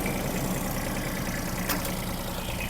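A Kubota GB-13 mini tractor's small diesel engine, slightly warmed up, idles steadily at close range, a continuous low rumble with a faint mechanical clatter throughout.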